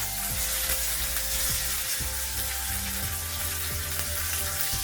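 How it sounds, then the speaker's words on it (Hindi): Steady, loud sizzling of dried red chillies and curry leaves frying in hot oil as a tempering for coconut chutney, with faint stirring clicks and no voices. "अभी इस तड़के को आधा मिनट के लिए फ्राई करेंगे"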